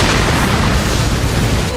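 A loud, dense anime explosion from Naruto, a sustained roaring blast with heavy low rumble that fills the whole moment without letup.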